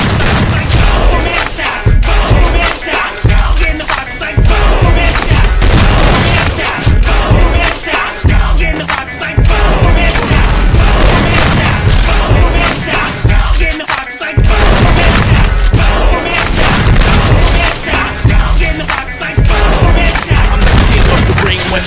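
Dense gunfire and booming explosions from a shooting video game pound nonstop at high volume, layered with crowd-like shouting and a rapping voice throughout.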